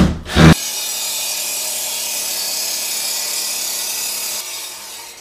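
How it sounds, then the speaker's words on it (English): A power driver drives 2-inch screws through pressure-treated wood blocking into wall studs, giving a steady, close grinding whir that runs for several seconds after a brief knock, then drops off. "I'm going to screw this to the studs with 2-inch screws."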